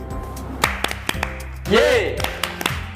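Children's clapping chant at an online Sunday school, sharp rhythmic hand claps in a steady pattern mixed with a leader's voice calling out over them.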